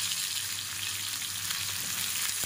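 Garlic fries in oil with a bright, close, continuous sizzle that stays steady throughout, over a low hum, with no voices.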